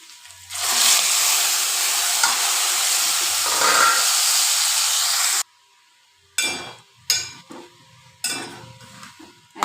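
Gongura leaves tossed into a pan of frying dried prawn curry, giving a loud, steady sizzle and hiss for several seconds, then a pause and a few short bursts of scraping and stirring.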